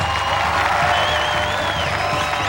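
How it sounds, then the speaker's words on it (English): Applause from an audience thanking two guests at the close of a discussion event, a steady, dense wash of clapping mixed with crowd noise and some cheering, filling the whole moment without a break. "Please give a round of applause."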